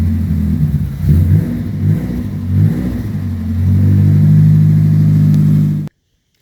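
A Chevrolet Chevette engine in a shop revs loudly through its exhaust muffler, with several throttle blips rising and falling before a sustained high rev that cuts off abruptly.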